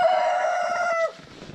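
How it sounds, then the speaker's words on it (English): A rooster crows loudly and close, a long held call that breaks off, followed by softer clucking and scratchy farmyard noise from chickens. "Holy roosters are going They're nuts."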